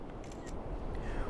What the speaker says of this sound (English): We're using the shutter button on the back right side of the controller.